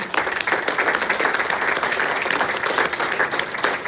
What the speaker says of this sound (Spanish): Dale un fuerte aplauso al Señor, mis hermanos.